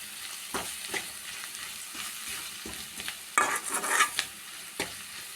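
Garam masala and salt being stirred into a simmering curry: a spoon scrapes and knocks around the pan in irregular strokes over a soft sizzle, with a brighter burst of scraping midway, close and fairly quiet, no talking.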